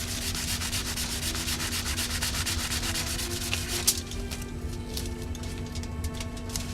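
Steady rhythmic rubbing of sandpaper on a carbon fiber motorcycle fairing, close and moderately loud, the strokes continuing evenly without speech.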